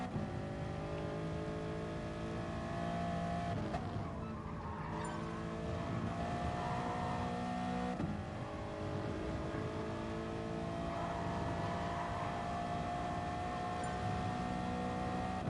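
Race car engine held at full throttle in Gran Turismo Sport at Lago Maggiore, a steady loud roar with bright harmonic tones that climb and drop through gear changes, continuous for the whole stretch.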